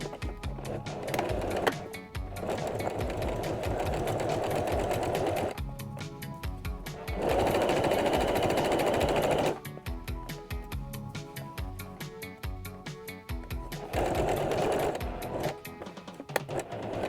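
Sewing machine running a long 3.5 mm topstitch seam on boxer shorts in bursts of rapid, steady needle chatter, pausing between runs, close and fairly loud with no talking.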